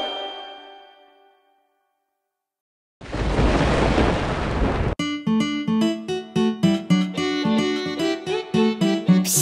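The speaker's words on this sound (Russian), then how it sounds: "Это гремит гром." Thunder in a children's animated farm song: after a fading chime and a brief silence, a loud two-second crash of broad rumbling noise cuts in, then gives way to bright music.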